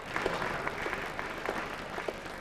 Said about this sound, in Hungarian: egy taps